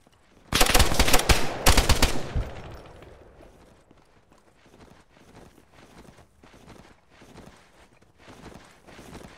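Gunfire in the Arma 3 military game set in Takistan: a loud close burst of rapid automatic shots followed by fainter scattered shots and clattering footsteps.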